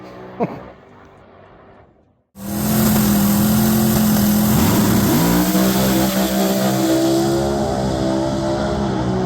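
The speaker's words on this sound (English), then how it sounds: "And engine noise at the end of the pass." A loud funny car drag racing engine bursts in at the end of a pass at Redding Dragstrip and roars steadily, its pitch dipping and settling into a heavy, rumbling drone.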